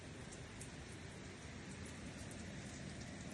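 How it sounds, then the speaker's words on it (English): Heavy rain pouring down in the Maldives, a constant broadband wash of falling water that stays even throughout, moderately faint and without any talk. "the heavens opened and the rain started pouring down"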